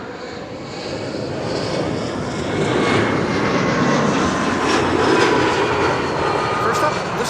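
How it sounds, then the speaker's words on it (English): An Embraer jet approaching Amsterdam Schiphol Airport gives a loud, continuous engine roar that swells slightly and holds steady. "Embraer 175, E2 Embraer 195, and then also an Embraer 190."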